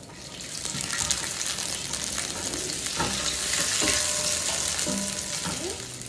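Onions broken by hand fry in extra virgin olive oil, giving a loud, continuous close sizzle with a few faint clinks throughout.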